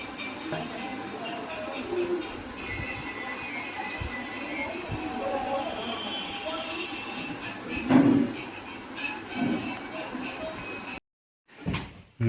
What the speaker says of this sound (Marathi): ये ते बघ ट्रेन ट्रेन तिकडे बघ